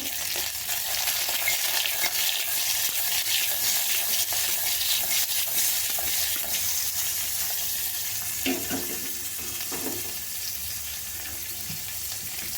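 Steady loud sizzle of slit green chillies and big onions sautéing in oil in a pan, with occasional stirring scrapes, close and continuous, no voices.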